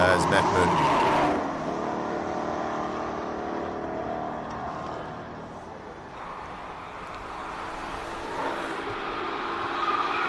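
A Golf GTI race car runs a hill climb course at Simola, its engine loud at first and then receding, with tire squeal and a commentator talking over it.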